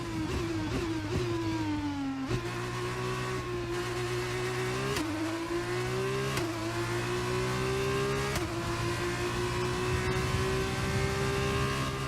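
Race car engines wail continuously at the Saudi Arabian Grand Prix, a high, loud note that rises and dips as gears shift repeatedly over twelve seconds, with no talking.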